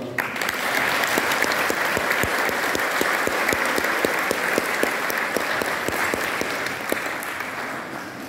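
At a December acrobatics show in Vredendal, a large crowd gives sustained, dense applause, a steady roar of many clapping hands with a few sharper claps standing out, fading slightly toward the end.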